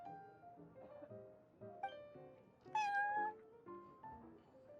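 A cat meows repeatedly in the Genshin Impact video game, a run of short, tonal mews of varying pitch, close and fairly soft, with one louder, higher cry near the middle.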